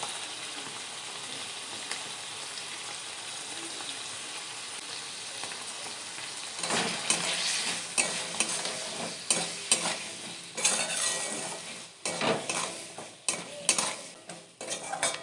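Papaya and potato pieces fry in a pan while being stirred: a steady soft sizzle at first, then louder scraping stirs and clattering strokes of a utensil against the pan in irregular bursts over the continuous frying hiss.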